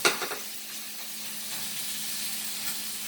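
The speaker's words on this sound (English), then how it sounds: "my water's at the boil I want. So I'm going to add it. Add my pasta." Dry pasta drops into a pot of boiling water with a few quick taps, followed by a steady bubbling hiss that continues evenly at moderate volume, with no voices.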